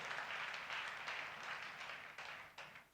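A church congregation claps together at a New Year promise service, a steady wash of many hands with clusters of sharper claps, fairly distant and fading slightly toward the end.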